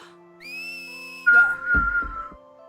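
Whistling in the game Final Fantasy X: a sustained high tone that steps up, holds, then drops into a lower held note, with a brief burst of other game sounds partway through.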